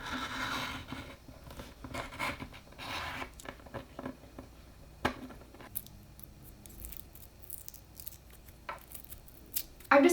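A Crayola crayon label cutter scrapes and rasps against a crayon's paper wrapper in bursts of rough, papery rubbing and snipping, with quieter pauses and a few sharp clicks in between.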